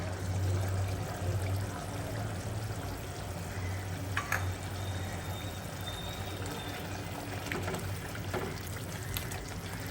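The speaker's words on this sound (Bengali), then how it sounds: "আদা রসুনগুলো একদম কষানো হয়ে গেছে।" Ginger and garlic sautéing in a pan for an egg roast, giving a constant loud hiss and sizzle with occasional scrapes of a stirring spoon.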